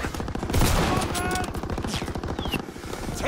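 Rapid automatic gunfire rattles through a WWII multiplayer video game battle, a dense continuous burst of shots that keeps going for several seconds.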